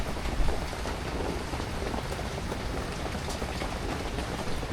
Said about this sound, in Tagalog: Maghantay lang muna kaming tumigil ng ulan